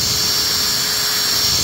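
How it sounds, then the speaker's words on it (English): A power drill spinning a honing tool inside a master cylinder bore: a steady, loud high-pitched whine and grinding hiss, continuous and close, with no pauses. "I've inserted the honing tool, and I'm now going to operate the drill on high speed."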